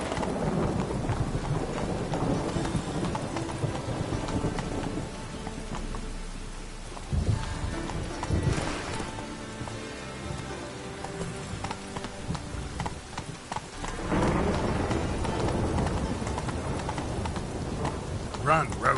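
Horse hooves galloping in a video game, a steady clip-clop rhythm running under continuous ambient game sound, with a brief pause partway through before the pounding resumes.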